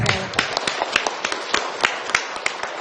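Sharp, evenly spaced claps ring out close by, a short steady round of hand clapping.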